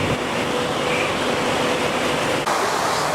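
Strong wind and breaking ocean waves in the Drake Passage, a loud, continuous broadband roar with surging wash, with a brief knock near the end, and no voices.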